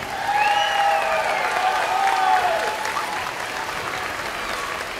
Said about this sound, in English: Can you give all of these kids a round of applause?